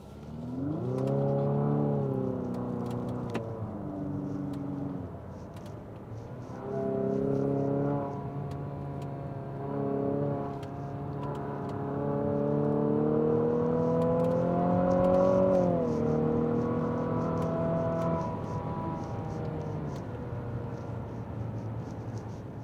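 A 2023 Infiniti QX50 Sport AWD with a CVT transmission drives along a backcountry road. Its steady engine drone rises and falls in pitch with simulated shift steps, heard close inside the cabin with no talking.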